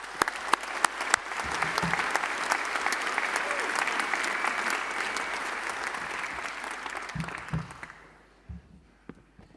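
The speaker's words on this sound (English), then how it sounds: "Will you please give her a big round of applause?" Big round of applause from a graduation ceremony audience, loud sustained clapping filling the hall for about eight seconds before dying away to scattered claps and murmurs.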